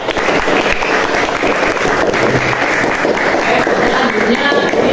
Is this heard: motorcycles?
no